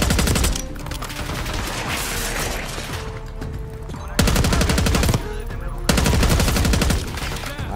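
Gunfire in Call of Duty Black Ops 6, loud rapid automatic bursts with clattering mechanical weapon sounds, dense and close, ending in sharp repeated volleys, with a voice briefly talking.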